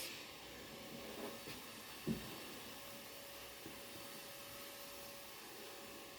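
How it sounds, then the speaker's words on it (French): A vacuum cleaner runs in another room, a faint steady whooshing hum that holds throughout, with a few soft knocks rising briefly above it. "je suis désolée si vous entendez l'aspirateur"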